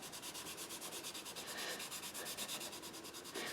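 Sandpaper rubbed rhythmically over a wooden Native American flute, a close, quiet scratching in quick regular back-and-forth strokes with no talking.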